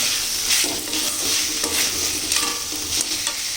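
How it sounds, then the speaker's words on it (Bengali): Fried potatoes are stirred into a sizzling tomato masala in a pan for a vegetarian banana flower ghonto with chickpeas and paneer, with steady frying crackle and repeated scraping strokes of a spoon, close up and without speech. "তখন দেবো আলু মানে ভেজে রাখা আলুগুলো"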